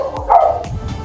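A dog gives a couple of quick, close barks in a brief burst, with no one speaking.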